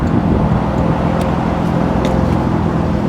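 A 1970 Jaguar XKE Roadster sits with its engine running in a steady, loud, close rumble, with a few faint clicks over it.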